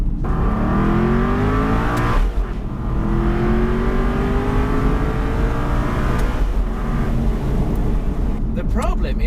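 Aston Martin V8 Vantage engine climbing through the revs while driving, loud and close with rising harmonic sweeps, a brief gear change dip near two seconds, and a voice talking over it.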